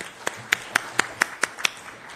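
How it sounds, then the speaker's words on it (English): A short round of applause after a talk, really a few sparse, evenly spaced claps, about eight distinct sharp hand claps in a steady rhythm, close and fairly loud against a quiet room. "Let's give a round of applause."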